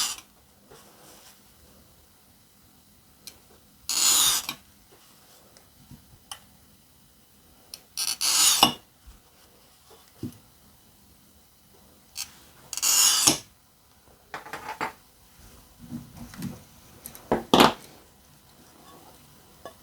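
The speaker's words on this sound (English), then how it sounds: "And I'll finish up by cutting some relief lines." A glass cutter scoring relief lines in stained glass, four or five short, sharp, gritty rasps spaced a few seconds apart, close and fairly quiet, with small ticks and handling noises between strokes.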